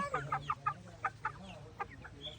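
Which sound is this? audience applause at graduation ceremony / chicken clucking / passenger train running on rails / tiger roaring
chicken clucking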